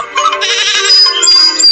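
A goat bleats in a Meena Raju video game, a loud, wavering cry that runs for nearly two seconds with no talk over it.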